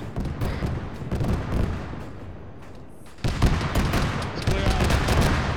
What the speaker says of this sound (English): It's firing at us. It's shooting at us.